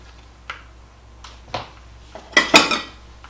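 A metal spoon scrapes and clinks against a baking dish while scooping strawberry cheesecake dump cake, a few sparse, close taps building to a brighter cluster of scrapes and knocks, with no talking.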